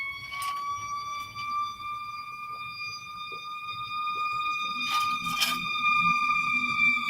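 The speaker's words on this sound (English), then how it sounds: "Y'all hear the ambulance? I think it's the ambulance." An ambulance siren wails steadily in the distance, its tone holding and shifting slowly over several seconds, with faint background clatter and no voices.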